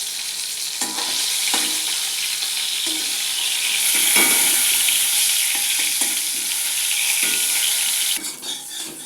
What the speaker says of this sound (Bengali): এটা আলুটা পটল পোস্তর জন্য আলুটা ভাজি করে নেবো।